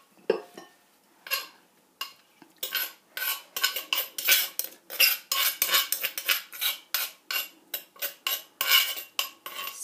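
Spoon or utensil clinking and scraping against a plate and bowl as pig ear papaya salad is scooped out, a fast run of bright metallic taps and scrapes, close and fairly loud, no talking.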